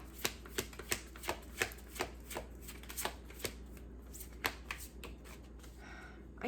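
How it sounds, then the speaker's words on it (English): Tarot cards shuffled by hand: a steady run of crisp, close slaps and riffles at an uneven rhythm, ending in a softer sliding rustle, with no talk. "I'm going to pause for a quick second, shuffling."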